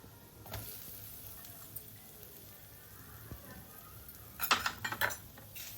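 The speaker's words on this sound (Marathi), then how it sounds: "मंद आचेवर ह्याला आपण परतवून घेऊया" Grated fresh coconut sautés in ghee over a low flame for coconut kheer, a soft quiet sizzle with occasional spoon scrapes and a short burst of metallic clinks against the pot near the end.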